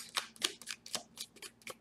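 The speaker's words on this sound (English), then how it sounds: "I'm going to shuffle one more time" Quick, crisp riffling of tarot cards being shuffled, about seven short bursts in a loose rhythm, close and fairly quiet.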